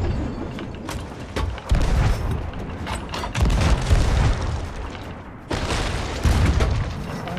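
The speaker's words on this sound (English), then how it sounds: "These are very chunky cannons." Heavy cannons booming aboard a pirate ship in the Sea of Thieves video game, several deep, loud blasts fired one after another with mechanical clatter and rumbling tails, and a brief lull before the final shots.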